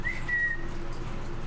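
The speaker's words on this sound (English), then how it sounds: "Let's see if he'll automatically wake up, and if not, then you can whistle." A person whistles to call a pet in a home kitchen, a single thin rising then steady tone of about half a second, fairly clear over a low steady room hum.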